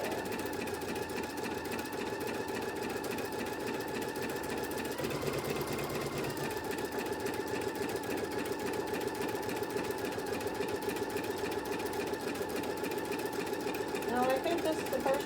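Embroidery machine stitching inner borders on a bunny quilt, a steady fast mechanical whirring hum with rhythmic needle clatter running continuously at close range, with a brief shift in tone partway through.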